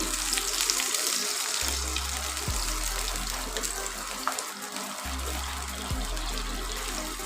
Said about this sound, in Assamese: ইয়াতে দি দিম পানী